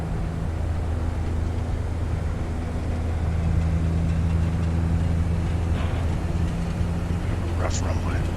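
A Saab 340A turboprop in a flight simulator rolls along a rough runway with a steady, loud engine drone and low rumble. A voice speaks briefly over it near the end.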